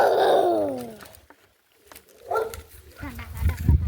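Dogs bark nearby: one drawn-out bark opens, then after a short pause a few rougher barks follow, with a person's voice also present.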